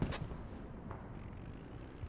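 Mortar rounds and explosions in a mechanized-warfare video game battle on Black Coast, heard as a muffled, continuous rumble of distant artillery fire with a few sharper thuds.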